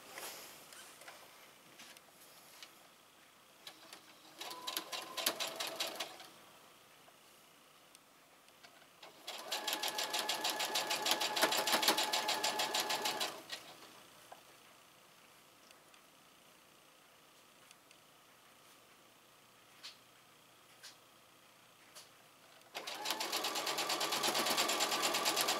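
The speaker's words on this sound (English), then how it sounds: "So we're just going to sew these down." Sewing machine stitching quarter-inch seams on a diagonal diamond slice quilt block, running in three steady bursts of rapid even stitching separated by quiet pauses.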